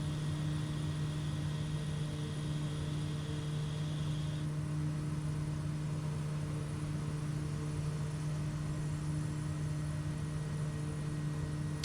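A propeller aircraft cruising at around 90 knots through a valley in Microsoft Flight Simulator, a steady droning engine hum with constant pitch running throughout, no voices.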